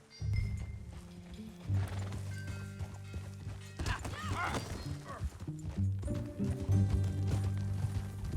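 A horse in Red Dead Redemption 2 gallops with rapid clip-clop hoofbeats over music and game effects, broken by a whinny partway through.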